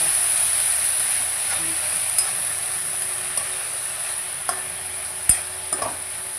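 Food fries in a pan in a home kitchen, giving a continuous bright sizzling hiss at moderate loudness, dotted with occasional small clicks and pops from stirring.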